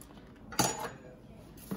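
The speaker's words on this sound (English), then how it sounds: "Take the spoon and mix it." A spoon clinks against a bowl while mixing Fruity Pebbles cake batter, two quiet scraping knocks about a second apart over a faint background hum.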